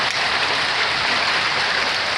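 Rain and hail from a spring storm on the Rockies Front Range pour steadily off a roof edge, a dense, continuous loud hiss of water with no pauses and no voices.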